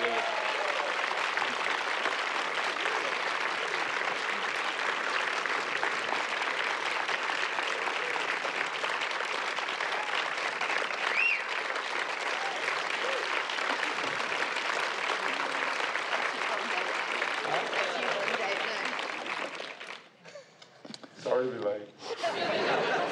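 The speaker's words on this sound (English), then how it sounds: "I thought people were applauding Mel Jass for a minute" Sustained audience applause at a film panel for No Country for Old Men, a dense, even roar of clapping lasting around twenty seconds, mixed with light laughter, before tapering off into scattered claps.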